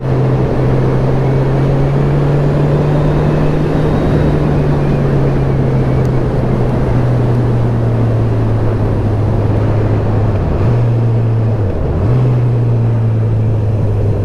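A Honda CB1000R motorcycle rides along at a steady cruise, its engine droning loud and close under heavy wind rush, with two brief dips in revs near the end.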